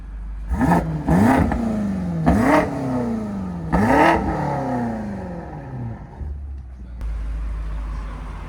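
A 900 hp BMW X6 M Competition with downpipes, resonators and a stage 2 tune revs hard four times in close succession, each roaring climb dropping back to a rumbling idle before settling.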